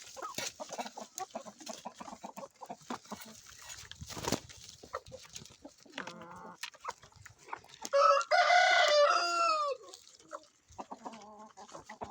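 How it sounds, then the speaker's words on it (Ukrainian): Chickens cluck and fowl sounds scatter around, then a rooster crows loudly partway through, followed by more soft clucking. "перших ми кормимо курочок"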